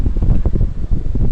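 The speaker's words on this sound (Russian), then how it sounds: "Вообще сейчас вот оглушительный просто ветер." Wild, roaring wind bends trees outdoors, heard as a dense, loud, continuous rumble with irregular gust pulses and no voice.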